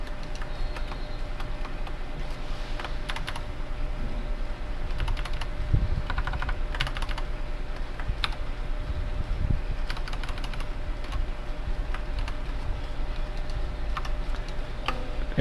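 Code being typed on a computer keyboard in Windows: quick irregular bursts of clicking keystrokes with short pauses between runs, close and fairly quiet, no voices.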